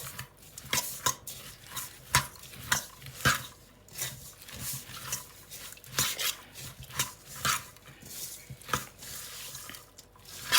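A raw vegetable salad with carrot is tossed with oil and black pepper. Quiet, rhythmic strokes of mixing and scraping repeat close by, with no talk.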